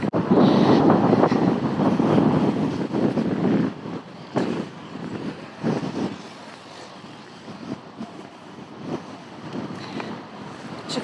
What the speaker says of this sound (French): On se mange une rafale de vent